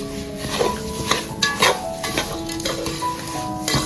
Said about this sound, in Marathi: आपला जो रवा आहे ना खूप छान प्रकारे भाजला आहे थोडा थोडा गोल्डन कलर आला आहे